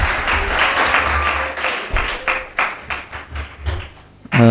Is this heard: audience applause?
yes